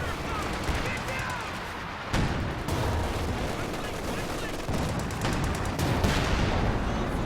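Tank and artillery fire in Company of Heroes 2, including a Sherman Easy 8 and a Panzerwerfer barrage: dense, continuous battle noise with repeated booming impacts and rattling gunfire, while a commentator talks over it.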